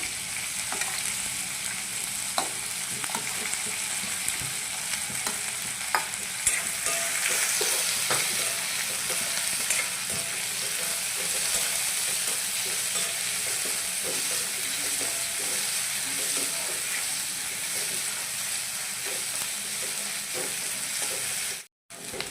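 Onions roast in a pan for Bengali ghugni with a steady, close sizzle and occasional scraping stirs, continuing evenly before cutting off abruptly at the end.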